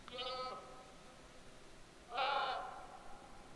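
A goat in the survival video game SCUM bleats twice, two short harmonic calls about two seconds apart, moderately close over a quiet background.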